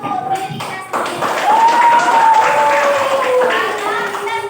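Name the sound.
group clapping hands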